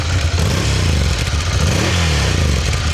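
A Ducati Scrambler's 803cc air-cooled V-twin revs hard up close, a loud, continuous throaty roar that holds through the whole stretch with no one talking.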